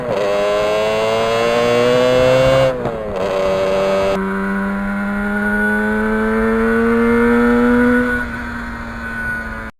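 A loud 1977 Yamaha RD400 motorcycle engine revs up, pauses at a gear change, then climbs steadily again through the next gear, close by.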